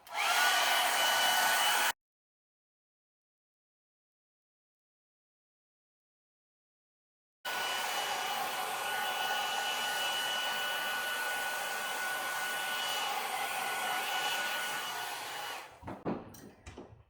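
A hair dryer on its high setting roars loudly and steadily up close, cuts out for several seconds, then resumes and runs until a few clunks near the end; it is blowing over epoxy on a mosaic tile window.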